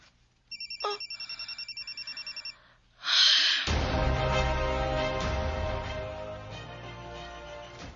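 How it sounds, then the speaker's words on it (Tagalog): A telephone rings in loud repeated electronic bursts, then a burst of dramatic music with sustained tones swells in and carries on to the end. "So no, pasagdi ka nang mag-ring."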